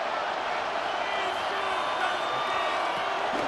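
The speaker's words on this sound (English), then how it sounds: "this crowd trying to force a false start here" Stadium crowd noise in Madden NFL 26 during an Eagles vs Chiefs game, a steady loud roar of a packed crowd trying to force a false start, continuous throughout without breaks.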